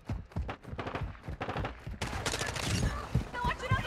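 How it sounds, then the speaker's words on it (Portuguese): Rapid bursts of gunfire in the video game Call of Duty: Modern Warfare II crackle and pop in dense volleys, with a voice speaking underneath during the first half. "Estão atirando em mim!"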